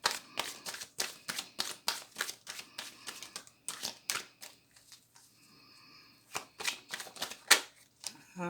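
Tarot cards are shuffled in a quick, steady run of crisp riffling flicks, then a short pause, then more shuffling, close and alone without talk.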